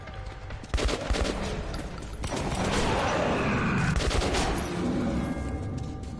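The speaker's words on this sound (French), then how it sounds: "on tire là, mais..." Sustained gunfire from the video game Metro 2033: dense bursts of automatic fire and shots pile up after a brief pause, loud and continuous to the end with little letup.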